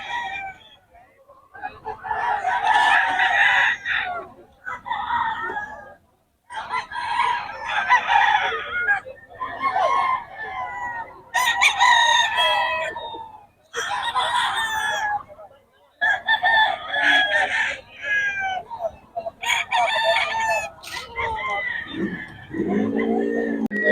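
Roosters crow repeatedly at a seller's stall in Bocaue, loud and close, one call after another with short gaps, several birds overlapping across the recording.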